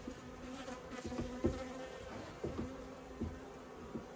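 Honeybees buzzing during a hive inspection: a faint, steady hum with a few louder passes as single bees fly close to the microphone, and soft bumps and knocks of handling underneath.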